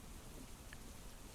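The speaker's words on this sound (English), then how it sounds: "It's raining. Remember, it's raining." Rain in a WWII hex-based wargame, heard as a soft, steady rain hiss with a faint patter on surfaces, continuous and unbroken with no voices.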